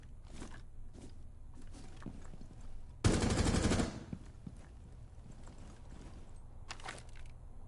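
A short burst of rapid gunfire at a target in the Rainbow Six game, about one second long and fairly loud over a quiet background with faint clicks around it.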